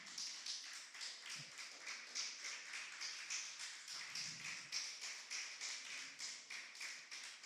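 A standing church congregation clapping in a steady, rhythmic unison beat after a sermon, fairly faint and reverberant, with a brief low thump or murmur partway through.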